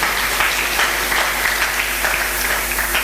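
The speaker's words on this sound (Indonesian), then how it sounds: "Tepuk tangan untuk Buni" Audience applause at an Indonesian cooperative awareness event, a continuous patter of many hands clapping with a steady hum underneath, fairly loud and unbroken.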